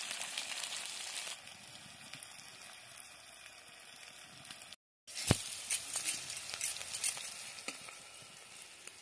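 Cumin seeds fry in hot oil with a close, busy sizzle and crackle. There is a brief break, then a sharp clatter followed by more spitting and popping. No one talks.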